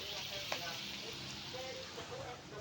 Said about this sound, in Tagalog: Preprito muna natin.